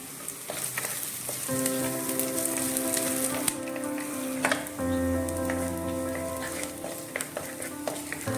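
Curry leaves and onion sautéing in hot oil for a drumstick-leaf dal curry, a loud steady sizzle and crackle with scattered stirring clatters close by, with no talking.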